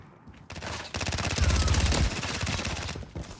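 Rapid machine gun fire in a first-person shooter gunfight match, a dense rattling burst of repeated shots building loud and sustained over several seconds before easing off.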